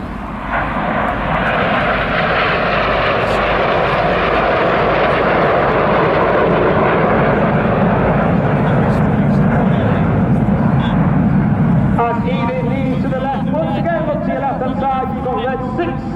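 Red Arrows RAF aerobatic jets flying a display at Southport Airshow, a loud sustained roar of jet engines passing overhead, with a commentator talking over the noise toward the end.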